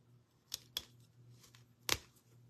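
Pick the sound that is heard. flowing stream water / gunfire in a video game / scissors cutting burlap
scissors cutting burlap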